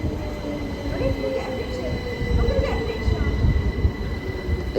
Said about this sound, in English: This is the Letchworth Garden City train.